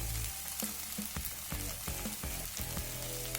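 Onions sizzle and fry in hot oil as turmeric and coriander powder are stirred in for rajma masala, a steady crackling hiss broken by several soft scraping stirs, close and alone without talk.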